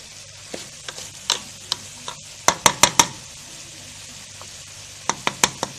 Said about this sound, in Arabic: دابا غادي نغطي عليه باش تطلق هذيك البصله الماء ديالها.